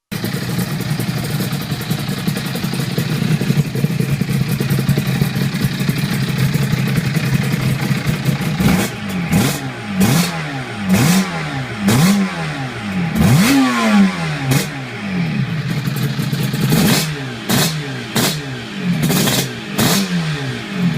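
A Suzuki RG500 Gamma two-stroke motorcycle engine sits at a steady idle, then revs hard in repeated sharp bursts with quick rises and drops, loud and close, with no talking.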